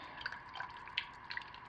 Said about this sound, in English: I'm going to pour roughly half of our white base